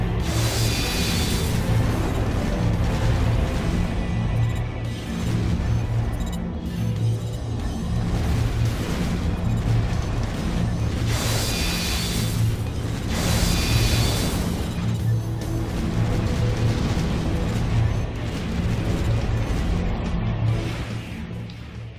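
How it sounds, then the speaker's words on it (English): Explosions from the mech combat game Armored Core: for Answer, a series of heavy booms and crashing blasts that recur over a dense, continuous game soundscape, loud and without speech. "That looked an awful lot like a Kojima explosion"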